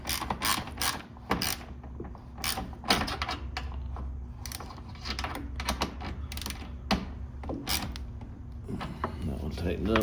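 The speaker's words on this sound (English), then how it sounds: "Now the screws that are holding the pins on, I'm going to tighten those down" Screws being tightened on a rocket nose cone plate, with repeated sharp clicking and ratcheting taps at close range over a low steady hum.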